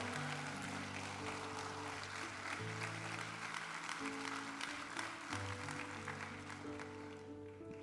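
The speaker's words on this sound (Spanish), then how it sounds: "si usted lo cree, denle un aplauso fuerte al Señor" A church congregation applauds during a Spanish-language sermon, a steady wash of clapping over sustained organ or keyboard chords, fairly distant and soft.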